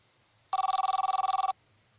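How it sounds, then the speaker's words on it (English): A mobile phone rings with a rapid, evenly pulsed electronic trill lasting about a second, loud and close against an otherwise quiet background. "my phone rang."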